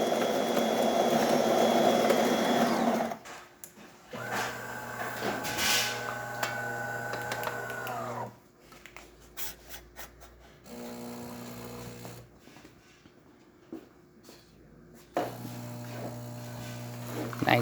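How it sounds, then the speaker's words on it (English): A DeLonghi Magnifica S espresso machine grinds and brews a single shot: a loud mechanical whir, then humming pump bursts separated by quieter pauses, all close and without voices. "So starting with one shot of espresso, we're going to be testing it out."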